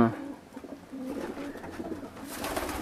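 Pigeons in a farm pigeon loft coo in low, soft, repeated throaty calls, several birds close by with a steady background hum and no talking.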